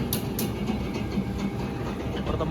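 Old locomotive 7701 heading the KA Ranggajati economy train gives a low steady rumble with faint rail clatter, a dull continuous drone throughout without talk.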